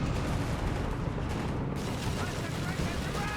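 Tank cannon and autocannon fire in Company of Heroes 3, from a Crusader anti-aircraft tank with a Bofors gun engaging a Flak Panzer and a Panther, a dense, continuous roar of battle blasts and rumbling fire with no break.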